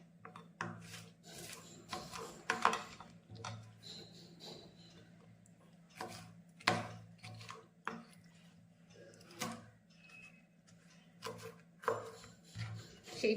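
A knife chops pineapple into small pieces on a board for homemade wine, making irregular, close, sharp cutting knocks and scrapes spaced a second or so apart, with quiet gaps between and no talking.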